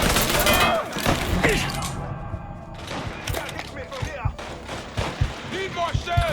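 Gunfire in the Mafia 3 video game, with a run of sharp shots and heavy thuds in bursts, mixed with loud, excited shouting from players over the action.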